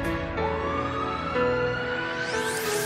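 Ambulance siren in an animated Hindi cartoon, a loud, continuous electronic wail that holds steady and then sweeps upward at the end, with no voices over it.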